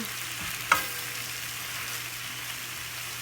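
Spinach and salmon fry in a pan with a steady, loud, close sizzle, broken by one brief clatter early on, with no talking.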